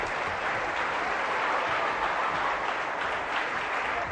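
Studio audience applauding on a French television talk show, a dense, steady wash of clapping that fills the whole stretch without pause.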